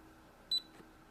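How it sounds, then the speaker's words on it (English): A Peppa Pig toy cash register gives a single short electronic beep when the pig's head is pressed, a brief high double-pulsed tone standing alone against a quiet background. "When you press Peppa's little head, it's just a beep."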